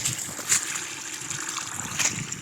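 Water washing and trickling around a road culvert on a chilly day out on a rural line, a steady close wash with a couple of brief louder splashes.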